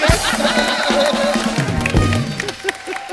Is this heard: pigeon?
no